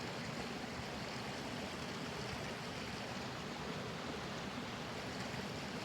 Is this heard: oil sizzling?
no